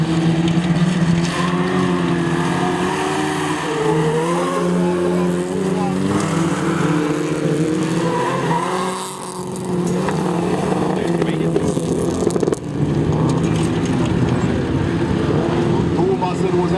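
Folkrace cars race on a track in Luleå, engines droning loudly and continuously with shifting pitch as they pass, while a commentator talks over the noise.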